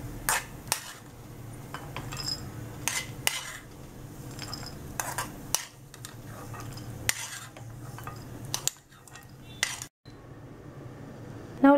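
Fried coconut, cooked until brown, is scraped and spooned from a pan onto a plate, giving repeated metallic scrapes, clinks and stirring sounds at close range with a soft background sizzle.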